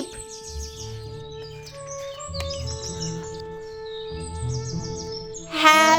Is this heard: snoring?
no